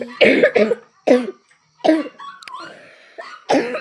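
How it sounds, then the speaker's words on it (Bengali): Several harsh coughs in quick bursts, close and loud, from a person who is sick with fever, with short pauses and a faint rustle between them. "কাশি হচ্ছিল।"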